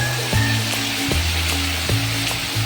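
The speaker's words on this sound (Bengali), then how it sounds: "দেখো পেঁয়াজটা ভাজা হয়ে এসেছে একদম ঠিকঠাক। এবার আমি মশলাটা দিয়ে দেব।" Spice paste hits fried onions in a pan while cooking mustard hilsa, giving a loud, steady sizzle with regular clacks of stirring roughly every second.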